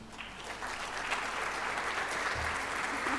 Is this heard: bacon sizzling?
no